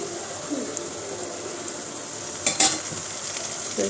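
Spice paste of salt, turmeric, cumin, coriander, chili powder and ginger-garlic-green chili paste frying in a pan for mutton curry, a continuous close sizzle with stirring scrapes and a louder clatter near the end.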